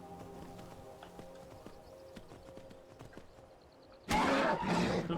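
A horse in the video game Skyrim trots with steady clip-clopping hooves over soft background music, then a sudden loud burst of neighing and galloping breaks in near the end.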